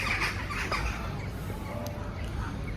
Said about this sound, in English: I like the ducks.